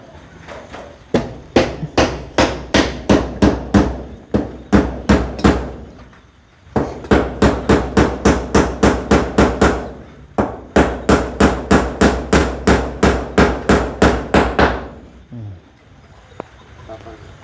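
Steady hammering, close and loud: repeated pounding blows in quick, even runs of about a dozen strikes each, broken by short pauses between runs.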